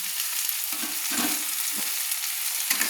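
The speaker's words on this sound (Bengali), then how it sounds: "দিয়ে আমি তেলের মধ্যে ভালো করে আমি নেড়ে নিচ্ছি" Boiled taro pieces are stirred in hot oil, giving a close, steady frying sizzle broken by several soft scraping stirs of the spoon through the pan.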